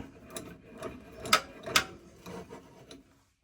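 The screw of a heavy DOYLE 4-inch low-profile drill press vise is turned by hand, giving faint, close mechanical clicks and a couple of sharper metallic ticks at an irregular pace.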